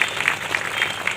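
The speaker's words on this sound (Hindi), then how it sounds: "आप लोग ताली बजाएं, ताली में कोताही न करें" Continuous crowd clapping at a village groundbreaking ceremony attended by politicians, a dense, steady patter of many hands close by with no pauses.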